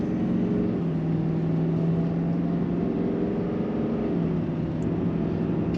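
A 2021 Duramax diesel pickup towing a trailer, accelerating with a steady low engine drone and faint gear-like pitch shifts, loud and continuous from inside the cab, no talking.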